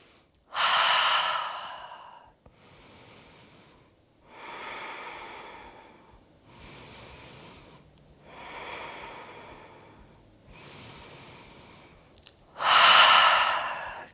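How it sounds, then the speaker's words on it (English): Slow, deep breaths during a yoga session, with about six long, airy inhales and exhales in a steady rhythm, the first and last strongest, heard up close with no talking. "So we'll take 5 rounds of breath at the top."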